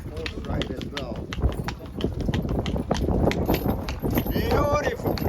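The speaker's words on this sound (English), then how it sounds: "So experience of horse ride as well." Horse hooves clip-clop in a steady, quick rhythm on hard ground during a horse ride near the pyramids, close and fairly loud, with people talking over the hoofbeats.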